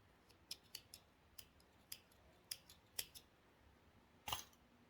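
Scissors snip thread while a tote bag is being sewn, giving a run of crisp, close clicks at an uneven pace, with one louder double snip near the end, in a quiet room.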